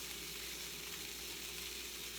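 Sausages sizzle in a pan with a constant, even hiss that runs unbroken throughout, fairly faint and with no voices over it.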